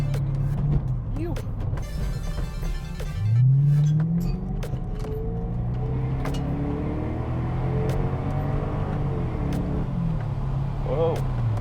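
BMW E64 M6 accelerating hard on a road, its engine note climbing steadily through the gears in a loud, close rising roar, with voices talking over it.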